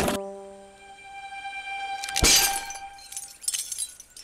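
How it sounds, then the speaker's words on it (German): A beautiful porcelain teacup breaks: a sharp, loud crash and scattering shards follow a bright musical chime, with a few smaller clatters afterward. "Aber Mamas wunderschöne Tasse ist zerbrochen"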